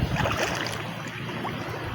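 Floodwater rushing through a village in Semi, Punjab, a steady loud broadband roar of churning water, continuous throughout with no voices.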